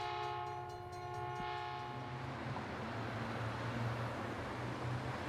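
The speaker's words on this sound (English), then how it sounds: "Train." A train sounds its horn in a loud, sustained multi-tone blast that cuts off after about two seconds, followed by a rumbling rush of rail cars rolling past; no voices.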